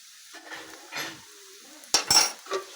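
Ginger-garlic paste hitting a hot pan for an egg curry, with a few soft utensil scrapes and taps, then a brief burst of sizzling and clinking near the end of the short clip.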